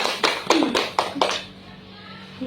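A few students in a catechesis teaching-practice classroom clap briefly, about four or five sharp claps in the first second and a half, fairly close, with faint talk and then quiet room tone.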